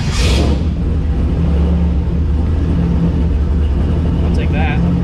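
A turbocharged car engine cold-starts and settles into a steady, loud, close rumbling idle, with a brief bright burst at the start and a faint high whine near the end.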